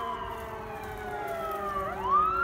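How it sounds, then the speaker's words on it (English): Emergency vehicle sirens wail in the distance near a small creek, a steady tone that bends upward toward the end, heard faintly over outdoor ambience. "There's some sirens."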